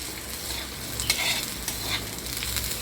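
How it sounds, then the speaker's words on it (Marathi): Onion frying with a little oil in a pan for a mung bean dabeli, giving a steady soft sizzle with a few clinks and scrapes of stirring, near and alone without any talk. "आता आपण कांदा आणि थोडंसं तेल टाकले भाजून काढायला"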